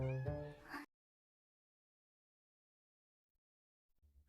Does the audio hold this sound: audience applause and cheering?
no